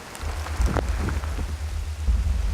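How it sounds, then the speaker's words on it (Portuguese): Rain beginning to fall by a river, scattered soft pattering over a low rumbling background with a few brief knocks, moderately loud and without voices. "A chuva começa."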